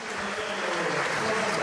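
Crowd applause at a Les Républicains youth rally, a steady, dense wash of clapping that holds at an even level throughout.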